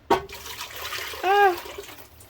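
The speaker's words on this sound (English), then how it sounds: "Now we're going to pour all this tomato goodness back into the pan, and yes, this makes a mess." Blended tomato mixture poured back into a pan, a wet sloshing pour with a splash at the start and a gurgling swell of liquid partway through.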